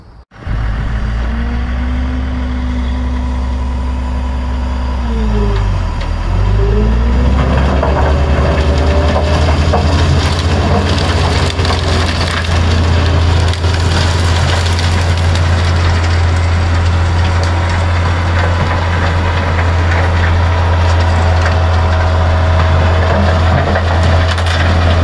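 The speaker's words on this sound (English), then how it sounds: "So let's see how the chipper gets on." A wood chipper on a farm runs with a steady, loud engine drone throughout, with a brief dip in pitch around the middle as wood feeds in, followed by continuous crunching and splintering over the running engine.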